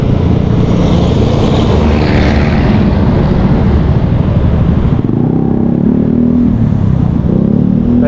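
A CFMOTO 150 Aura motorcycle engine accelerates on a test ride, a loud steady drone with wind roar that shifts in pitch partway through as the bike gains speed.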